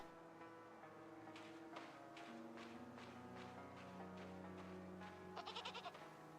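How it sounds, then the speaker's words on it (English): Goats bleating in a farm town within a video game demo, several wavering bleats in sequence over a quiet musical background, with a quick burst of light ticks near the end. "there are goat noises"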